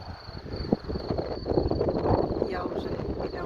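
Gusty wind buffets the microphone in low rumbling bursts, fairly loud and continuous, with a thin high whine running underneath.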